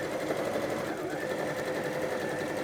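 A sewing machine stitches quilt blocks at a home sewing session, its motor giving a steady, close whirring hum with no pauses.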